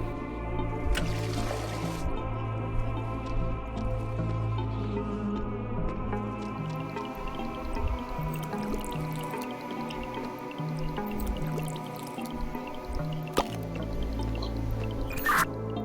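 Mouth noises imitate liquid pouring from a bottle, a steady wet dribbling and trickling with occasional drips running throughout, close to the microphone over a constant low background hum.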